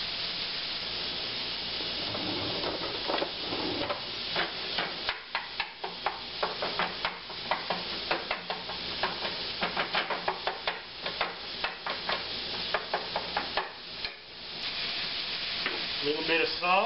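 Ground meat browning in a large, deep pan for green chile enchiladas, sizzling steadily while a utensil scrapes and breaks it up in quick, irregular stirring strokes close by.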